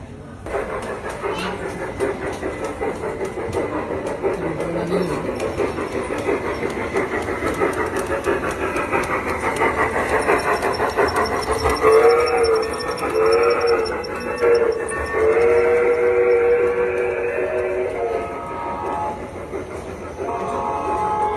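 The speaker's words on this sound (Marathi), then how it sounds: "इकडे ग्रीन लाईट लागली म्हणजे आता आपली ट्रेन येते इथून" A train pulls into a railway station in Hyderabad, a loud continuous rumble of wheels and carriages building up close by, with a drawn-out horn or whistle sounding repeatedly midway.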